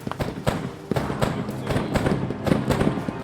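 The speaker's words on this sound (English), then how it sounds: "They're shooting!" Gunfire in a WW2 real-time strategy video game: rapid, dense cracks and thumps in an uneven rhythm, fairly close and steady, with faint voices beneath.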